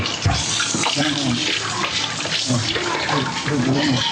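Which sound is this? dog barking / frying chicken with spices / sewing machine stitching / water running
water running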